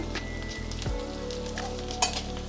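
Dried red chilies and coarsely crushed black peppercorns sizzle steadily in hot oil with curry leaves, a constant close frying crackle with occasional stirring sounds and no talking.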